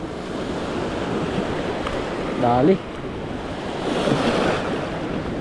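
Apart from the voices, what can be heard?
ocean waves surf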